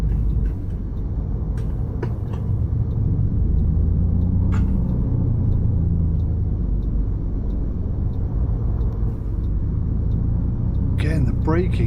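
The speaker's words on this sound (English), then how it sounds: "Braking is so aggressive on this vehicle" A coach bus in Fernbus Coach Simulator brakes on a tour from St Polten to Salzburg, its engine a steady loud rumble throughout, with a short hiss near the end.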